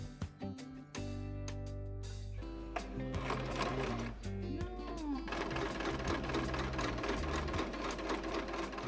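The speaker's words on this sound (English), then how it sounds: "now what I'm going to do is sew the bias tape to the edges" A sewing machine runs close by and almost continuously, attaching bias tape along fabric edges, its rapid mechanical hum pausing briefly and then resuming at a steady pace.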